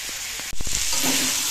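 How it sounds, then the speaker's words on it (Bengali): Vegetable curry frying in a pan and being stirred, a continuous bright sizzle with a few quick scraping stirs near the start, close and fairly loud with no voices. "তো তরকারিটা নাড়াচাড়া করলাম"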